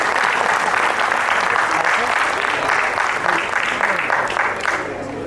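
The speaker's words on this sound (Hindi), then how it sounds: "एक बार सबके सम्मान में आप भी तालियां बजाइए" An audience at a Hindi poetry gathering claps in a sustained, dense round of applause that carries on evenly and begins to taper toward the end, with voices faintly mixed in.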